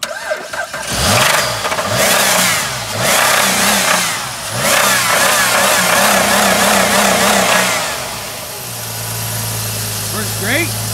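An old Jeep with a dead battery, jump-started, catches and revs in repeated loud rising and falling bursts, then settles into a steady idle. Voices are heard over the engine.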